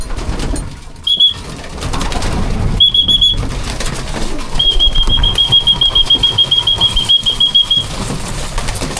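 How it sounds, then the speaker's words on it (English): A shrill pigeon-training whistle blown in short bursts, then one long steady blast, over outdoor background noise and rustling. "we'll blow the whistle a little bit first so they know what's coming"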